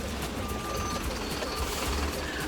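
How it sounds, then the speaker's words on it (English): A truck backs up near a port, its reversing alarm beeping steadily over a constant engine rumble and wind, heard from nearby. "The Briggs truck backing up."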